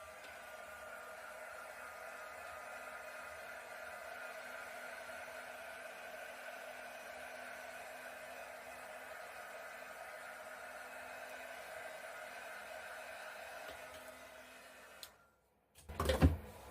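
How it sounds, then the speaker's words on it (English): A heat gun blows a steady, even roar of hot air over acrylic paint for about fifteen seconds, then cuts off abruptly, leaving a brief clatter and handling noise. "Now I'm going to hit this with a heat gun."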